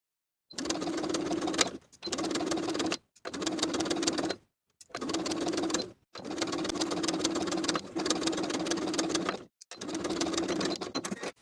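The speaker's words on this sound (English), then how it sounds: "Sew that in place starting from one top edge all the way around the back band to the opposite top edge" A sewing machine top-stitches elastic around the back band of a bralette, running in seven steady bursts of fast, even stitching with short silent pauses between them, close and clear with no talking.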